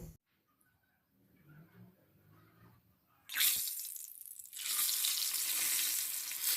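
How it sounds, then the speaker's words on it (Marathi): Corn vadas deep-fry in oil. Quiet faint rustling gives way to a sudden loud hissing bubble, which briefly dips and then returns as a steady, close, vigorous sizzle. "खरपूस असा आपण याला तळून घेऊ"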